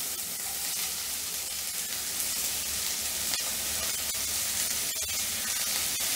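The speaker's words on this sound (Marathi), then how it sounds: "कांदा चांगला परतून घ्यायचा आहे" Two large finely chopped onions sauté in hot oil for Mumbai street-style paneer bhurji, producing a loud, unbroken, close sizzle with faint stirring scrapes throughout.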